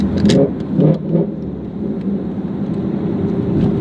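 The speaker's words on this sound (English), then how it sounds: "clutch in, I'm gonna blip my throttle, and let go of my gas" A Ford Mustang in Sport Plus mode revs briefly during a throttle-blip downshift while slowing, giving two or three quick engine swells early on before settling into a steady, loud interior drone with road noise.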